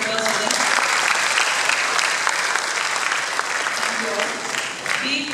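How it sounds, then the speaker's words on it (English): Big round of audience applause in a school hall for grade 11 students, loud dense clapping running throughout, with brief voices surfacing near the start and end. "Can we have a big round of applause for them?"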